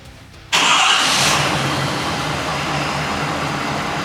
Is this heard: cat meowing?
no